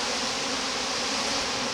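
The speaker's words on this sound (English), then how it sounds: "just turn it over and just lightly shake the beginning of the bees out" Honey bees from a package being gently shaken out, giving a steady, dense buzzing hum that holds evenly throughout at moderate level, with no talking.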